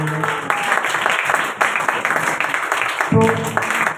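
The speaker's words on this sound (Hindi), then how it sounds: "इनके लिए एक दफ़ा फिर ज़ोरदार तालियां" Loud applause from a gathered audience at a religious community programme, honouring the woman who led it, dense clapping throughout with brief tonal bits of speech or sound breaking through.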